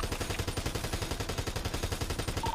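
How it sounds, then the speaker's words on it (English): Rapid, sustained automatic gunfire during a police shootout near an old carpet factory, a loud, steady stream of evenly spaced shots with no talking. "So they may have been shooting from inside his bed."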